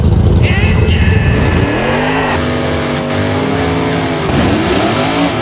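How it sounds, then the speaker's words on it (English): Race car engines fire up and rev hard, loud close-up roars that rise and fall in several sweeping pulls, with brief sharp bursts between revs. "Gentlemen, start your engine!"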